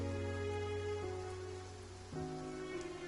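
Steady rain in the Genshin Impact game world, a continuous hiss of falling drops on surfaces, fairly loud and even throughout, with a tonal background drone shifting underneath and no talking.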